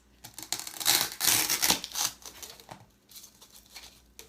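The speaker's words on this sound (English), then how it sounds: "I'm going to use this steak knife from the kitchen and just trim off the excess" A steak knife trims excess material from a cone on a homemade Christmas wall sconce, giving close, rough scraping and tearing cuts in uneven bursts, loudest in the first two seconds and then softer and more scattered.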